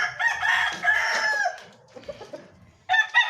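Hennie-line gamefowl roosters on a small backyard farm crow loudly and close by, one long crow followed by clucking and a second crow starting at the end.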